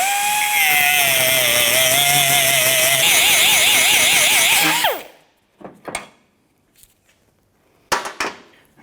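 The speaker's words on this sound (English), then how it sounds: "we want to go ahead and grind the head off of this pin right here going through, holding this cable" A power grinder cuts loudly and steadily through the head of a stuck tailgate cable pivot pin on a 1994-2004 Chevy S10, its whine wavering before winding down, followed by a few short clanks and metallic taps.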